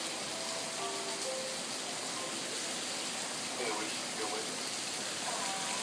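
Rain falls in a steady, close hiss that stays level throughout, with faint indistinct voice-like tones drifting underneath.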